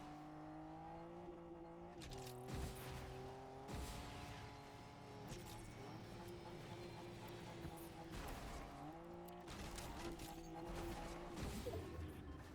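A car in the game Fortnite drives close by, its engine tone rising and falling in several revving sweeps with whooshing bursts, fairly quiet overall.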